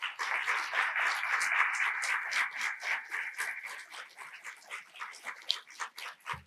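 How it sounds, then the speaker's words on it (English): A conference audience applauds to welcome a keynote speaker, with a steady wash of hand clapping that gradually thins toward the end, heard from a moderate distance with no talk. "please give a big round of applause and help me welcome Miguel López."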